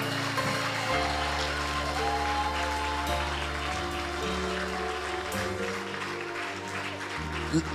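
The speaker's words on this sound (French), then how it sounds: "On acclame Jésus très fort." A church congregation claps and cheers loudly for Jesus in a dense, sustained burst of applause, with keyboard chords held underneath and a voice speaking over the noise.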